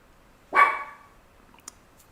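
A pet dog at home gives one sharp, close bark, followed by a faint click in an otherwise quiet room.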